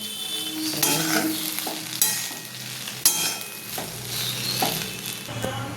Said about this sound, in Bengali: এবার ডিমটা দিয়ে দিলাম, একটু নেড়ে করে বন্ধ করে দেবো।